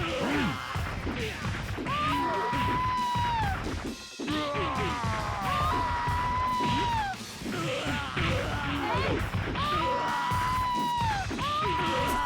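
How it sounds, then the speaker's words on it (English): Screaming from a video game, repeated loud yells and shrieks over chaotic clattering and crashing game sounds, continuous and intense throughout. "The screams."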